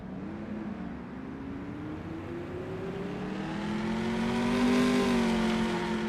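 Chevy TA2 race car engine in a racing video game, revving steadily upward through the gears in a long, rising whine that grows louder toward the end, heard alone with no talking.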